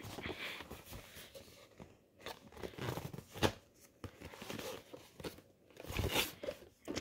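A blade slices into a damaged cardboard shipping box holding a Joy-Con charging stand, a series of close scraping, crunching cuts and rustles of cardboard, fairly loud with no talking.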